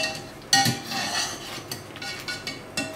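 A knife cuts cooked red kuri squash into small pieces on a board, with a sharp knock, then several softer taps and scrapes over a faint steady background hiss.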